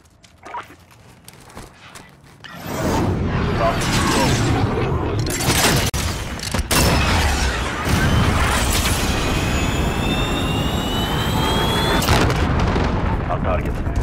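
A cruise missile in the video game Call of Duty Modern Warfare roars in after a quiet start, its loud, sustained rush and blasts filling the rest of the clip, with sharp crashes and a rising whine layered through it.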